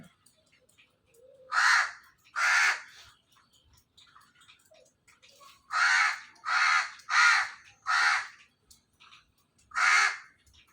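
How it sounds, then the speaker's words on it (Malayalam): A crow caws loudly nearby in a village setting where it competes with a cat over fish waste, several harsh calls in two clusters, two then four, plus a final one, separated by quiet gaps. "അതിനാണ് കാക്ക അത്രയും ശക്തിയിൽ അവിടെ ഇരുന്ന് കരയുകയൊക്കെ ചെയ്യുന്നത്"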